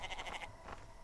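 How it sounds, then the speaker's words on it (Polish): Goat bleating in a video game, a short wavering call with a fainter second bleat just after, alone and fairly close. "O, koza."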